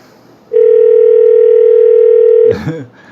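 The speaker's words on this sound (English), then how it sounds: "I don't know if you can hear me while it's ringing." A steady ringback tone on an outgoing telephone call, one long continuous ring lasting about two seconds, loud and clear, followed by a brief burst of a voice.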